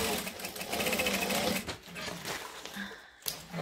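A sewing machine stitches the back panel of a fabric lunch bag, a steady close mechanical whir that pauses briefly, then resumes with a quieter hum.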